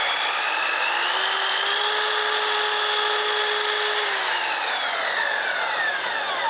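A miter saw's blade whines steadily after being turned back up to full speed, a loud, sustained motor tone that rises and shifts in pitch, heard alone.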